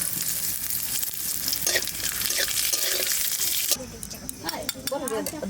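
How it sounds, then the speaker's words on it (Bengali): Cumin seeds fry in a pan for tempering, giving a steady bright sizzle with stirring scrapes, a shift partway through and some faint clinks of utensils. "ফোড়নের জন্য জিরে ভেজে তুলে নেবো"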